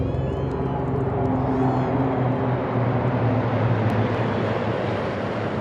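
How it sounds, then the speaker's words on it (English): Several military helicopters, Oryx medium utility and Super Lynx 300 maritime types, pass overhead at a South African presidential inauguration, a loud steady rotor and engine roar with low throbbing tones lasting throughout. "supported by 2 Oryx medium utility helicopters on the wings left and right, and in the middle, and Super Lynx 300 M64 maritime helicopter aircraft."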